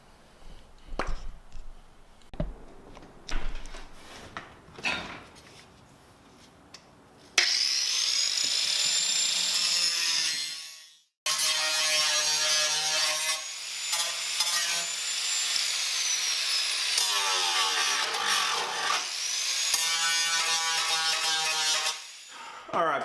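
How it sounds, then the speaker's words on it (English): A grinding wheel cuts back metal on a rusty BMW E30 body, a loud, sustained shrill whine with gritty scraping that starts after scattered handling clatter, briefly cuts out, then resumes with its pitch wavering. "I'm going to use the grinding wheel to clear off around it"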